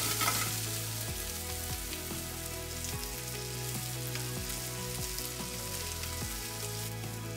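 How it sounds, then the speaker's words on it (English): Thick parts of spring onion sizzle and fry in a hot pan for a Japanese yakitori rice bowl. The hiss is loud and continuous, with periodic stirring scrapes and clanks against the pan. No voices. "then add only the thick parts of the spring onion. Fry for 30 seconds."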